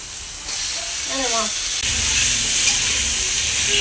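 Katla fish heads fry in hot oil with a loud, continuous crackling hiss that swells and grows denser midway, with a brief voice sound briefly heard early on.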